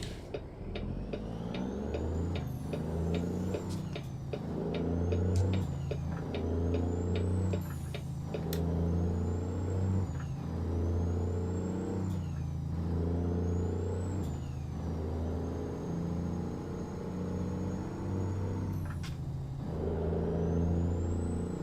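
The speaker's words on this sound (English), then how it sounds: "Brakes. Need those." A heavy truck in American Truck Simulator rumbles steadily while sharp air-brake hisses and clicks repeat at regular intervals over the low engine drone.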